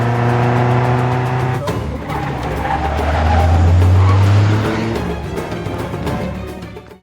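A car in a film roars in fast and loud with a rising engine and tire squeal, building to a peak before fading near the end, alongside steady tonal score.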